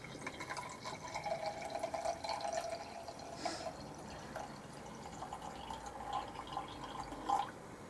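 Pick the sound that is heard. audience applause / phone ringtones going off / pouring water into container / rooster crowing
pouring water into container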